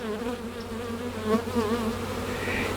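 Honey bees hum around an open backyard hive box, a close, continuous buzz with wavering pitch as individual bees pass near, swelling slightly midway.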